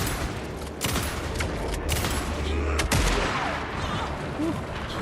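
Gunfire in the video game Alan Wake 2, a string of loud, sharp shots and bursts that repeat across the stretch over steady low rumble and ambience.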